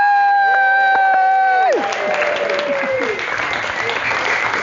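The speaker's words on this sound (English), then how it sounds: "Can we give them a round of applause?" A crowd claps and cheers for a troupe of strolling mummers at an outdoor village gathering in Chagford, steady applause with a few whoops. It follows a sustained tonal chord that bends downward and cuts off.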